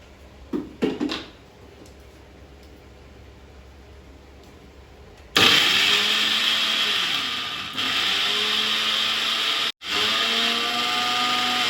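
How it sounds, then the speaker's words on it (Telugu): After a few light knocks and a quiet pause, a mixer grinder blending garlic and chilies roars to life and whirs loudly, pausing briefly twice before running on. "ఇవి రెండు కలిసి మిక్సీ చేసుకుందాం"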